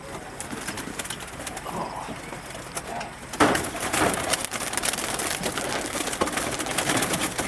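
Racing pigeons at a bird club convention coo in a noisy indoor room, with wing flaps and a sharp burst of flapping midway, the birds close by and no clear talk over them.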